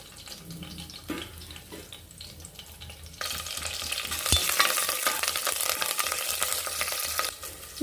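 Green chillies and curry leaves dropped into hot oil in a pressure cooker, giving a loud, steady crackling sizzle after about three seconds, with softer stirring and clatter before.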